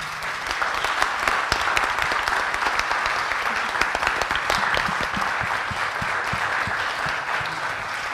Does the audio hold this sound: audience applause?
yes